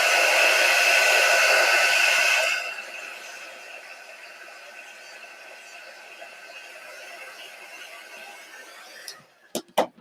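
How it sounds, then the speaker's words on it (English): A quick dry heat tool, a hair-dryer-style blower, warms Chalk Couture surface wax: steady loud whirring blast for a couple of seconds, then a quieter lingering hum, ending with a few faint clicks and handling knocks. "I'm going to heat mine up a little bit with my quick dry tool"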